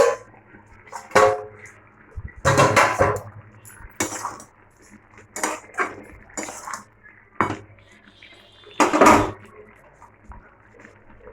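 A lid is lifted off a cooking pot, with several loud metallic clanks and clatters of lid and cookware in a quiet kitchen, spaced irregularly over several seconds.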